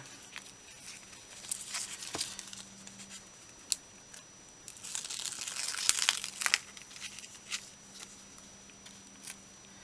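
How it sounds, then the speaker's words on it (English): Tape peeled from paper in a craft project, crackly ripping and crinkling bursts in bursts up close, loudest in a longer pull midway, with scattered small rustles and taps in between and no talking. "I'm going to go ahead and pull this tape."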